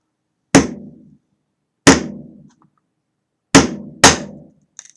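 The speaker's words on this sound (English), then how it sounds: "A few light taps of the hammer." Four sharp light hammer taps on glass ring out, evenly spaced at first, the last two in quick succession, each with a brief fading ring.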